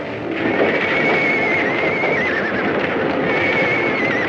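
Horses whinny shrilly in panic amid a fire, over a loud, dense roar, the frantic neighs rising and falling in a chaotic din.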